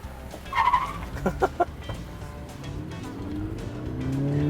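A Mini Cooper S revs and pulls away in an informal street race, several short throttle blips followed by a rising, lengthening engine note that grows louder toward the end, with no one talking.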